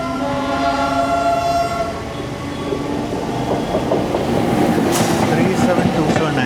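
The Porbandar–Kochuveli Express runs on the opposite line, a steady loud rolling rumble with rail clatter building toward the end, a horn-like tonal note early on, and voices mixed in.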